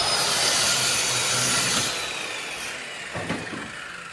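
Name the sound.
power tool cutting 1/4 inch ABS plastic for seat pan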